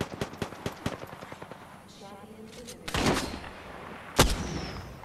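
Gunfire in the battle royale video game Apex Legends: a rapid string of sharp shots, then a pause and two heavier, louder blasts, with faint game sounds between bursts.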